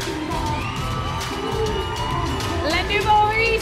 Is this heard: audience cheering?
yes